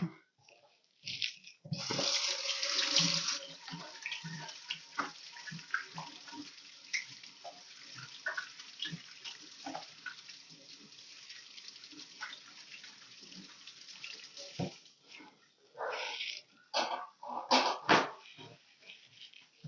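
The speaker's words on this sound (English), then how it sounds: "Gotta go wash my hands." Running water from a kitchen tap while hands are washed, splashing and gurgling in uneven bursts at moderate distance, with brief pauses and clattering; no talk.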